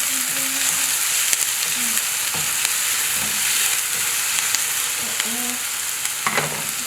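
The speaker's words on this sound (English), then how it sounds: "Add in your minced garlic, then stir, give it a good stir." Minced garlic sizzling steadily in a hot pan while being stirred for a mushroom sauce, with a constant frying hiss and light scraping of the spoon throughout.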